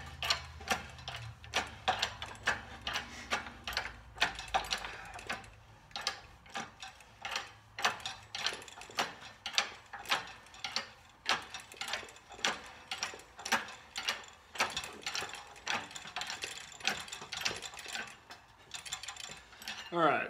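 A press broaching a keyway gives a faint, steady run of sharp metallic clicks, repeating evenly like a ratchet throughout, with a low rumble at the start.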